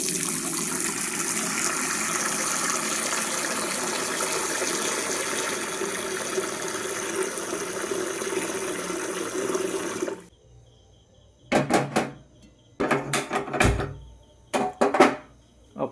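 Tap water gushes steadily into a pot being filled to boil chowmein noodles, a loud continuous pour for about ten seconds that stops abruptly, followed by a few short splashes and clatters.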